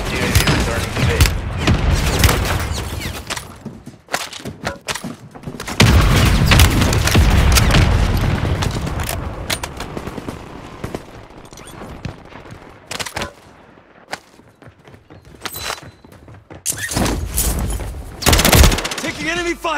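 Heavy video-game combat with sustained bursts of automatic gunfire and booming blasts from enemy fire, loud and dense with brief gaps, while voices talk over the shooting.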